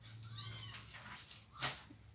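A robot cat toy gives a thin electronic meow, then a sharp brief burst a moment later, quiet and close with a low hum underneath.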